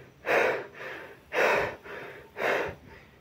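A woman imitates exhausted heavy breathing from climbing Mount Rinjani, Indonesia: three loud, rhythmic gasping inhales with softer exhales between, close to the microphone and with no words.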